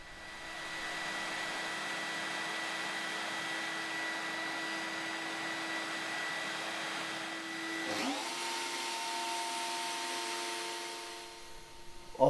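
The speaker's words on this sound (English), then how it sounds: "After setting the router bit depth, I just run the template and the material across the router bit." A router table with a flush trim bit, its bearing riding a template, whines steadily as material is run across the bit, the tone shifting sharply midway before winding down near the end, with no talk.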